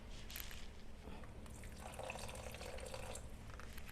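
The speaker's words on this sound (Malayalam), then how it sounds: "ഈ സ്റ്റേജിൽ ചൂട് വെള്ളം ഗ്രേവിയുടെ തിക്നെസ് അനുസരിച്ച് ഒഴിച്ചു കൊടുക്കാം" Hot water is poured into a simmering tomato gravy for dhaba-style dum aloo, making a faint, close trickle and splash that is quiet and brief, with no talk.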